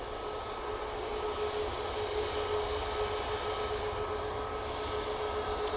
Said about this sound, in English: Jet2 A321 Neo in the holidays livery. Now coming on.